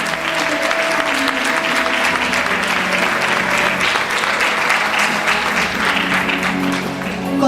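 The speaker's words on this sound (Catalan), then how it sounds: "Un fort aplaudiment per Carolina" Loud, dense applause from a crowd at a fallera presentation ceremony at the Casa de Valencia, sustained evenly for several seconds with a faint voice underneath.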